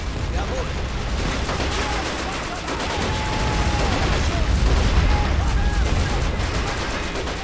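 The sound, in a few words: anti-tank grenades thrown in Men of War: Assault Squad 2, video game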